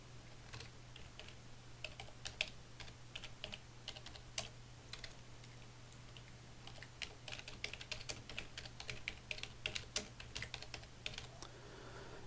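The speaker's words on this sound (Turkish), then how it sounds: "Şöyle içine bazı kodlar yazalım." Code is typed on a computer keyboard in quick, irregular bursts of close, crisp key clicks with short pauses, over a low steady hum and no voices.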